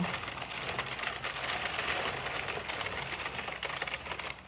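An Addi circular knitting machine cranked steadily to spin the stitches off, producing a dense, continuous plastic clattering whir with rapid ticking, close and fairly even throughout, with no talking.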